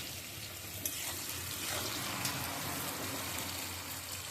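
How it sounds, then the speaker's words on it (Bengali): Red chilli pickle masala, salted, is stirred in a pan, giving a soft continuous sizzle with faint scraping, quiet and steady with no voices. "নুন দেওয়ার পর আরও আমি কয়েক মিনিট নেড়ে নিচ্ছি"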